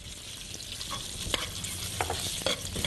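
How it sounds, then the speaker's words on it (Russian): Fatty pork belly sizzles and crackles in a wok for Chinese stir-frying, a dense, steady hiss up close with scattered pops and scraping stirs, no talking. "Вначале пожарим мясо."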